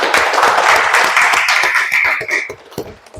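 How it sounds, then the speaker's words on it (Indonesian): Classroom students clap for a group after a presentation, a dense burst of many hands clapping at once that fades out over about three seconds. "kita kasih aplaus pada kelompok 3"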